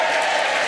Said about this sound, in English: Very lukewarm round of applause.